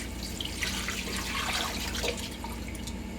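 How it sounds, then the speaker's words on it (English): Water is poured from a pot lid into a pan while country ham cooks with cloves, nutmeg and cinnamon, making a steady, close splashing trickle that runs without a break and with no voices. "So I use the lid to transfer some water into the pan."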